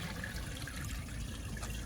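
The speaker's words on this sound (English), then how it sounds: "So I'm gonna add some water to the bowl." Water poured into a Rheem Claymore toilet bowl, a faint, steady splashing trickle heard close up without pause.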